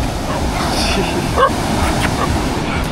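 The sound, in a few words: dog barking in Bali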